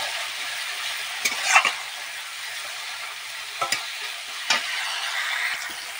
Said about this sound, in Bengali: এই যে মশলা আমার এখানে কষানো হয়ে যাচ্ছে